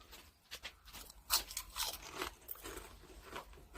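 Crisp crunching bites of sweet potato vegetable chips, a series of close, sharp cracks and crackles as the brittle chips are chewed, with no talking.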